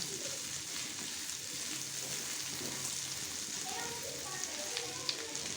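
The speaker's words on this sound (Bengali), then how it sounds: "এখন সব উপকরণগুলোর সাথে এটা একটু মিক্সড করে হালকা একটু ভাজবো।" Chicken mince being mixed and lightly fried in a pan with butter, giving a steady, close sizzle and crackle with faint stirring scrapes throughout.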